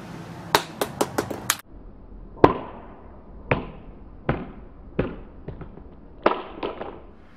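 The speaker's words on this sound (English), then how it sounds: "iPhone 4S side drop test in 3, 2, 1." An iPhone 4S hits a hard floor on its side during a drop test, landing with a sharp crack and then bouncing and clattering in a quick series of fading impacts. Several separate sharp knocks follow at irregular intervals, close and loud, with no voices.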